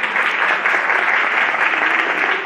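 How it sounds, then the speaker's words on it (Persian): Audience applause fills a music school concert at the Niavaran cultural center, a dense, steady clapping that holds at an even level throughout with no one speaking. "تشویق بفرمایید."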